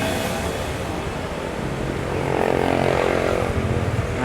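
A TVS Ntorq XP Race 2022 scooter engine starts up and runs with a steady, close, buzzy drone that swells slightly louder partway through, with no voices.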